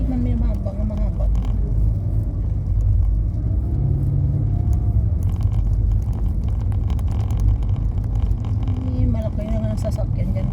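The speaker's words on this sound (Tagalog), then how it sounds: "Malaki na nga ng sasakyan dyan." A large vehicle rumbles past on the road, making a loud, steady low engine drone that carries through the whole stretch with voices underneath.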